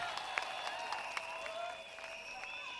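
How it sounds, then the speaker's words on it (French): A church crusade audience in Kananga applauds, a dense, steady wash of clapping with some cheering throughout, heard from within the crowd at moderate level. "Acclamez très fort."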